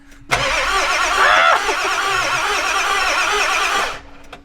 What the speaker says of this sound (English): Does it start? Or it just does that? It doesn't start.